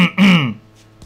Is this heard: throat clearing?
yes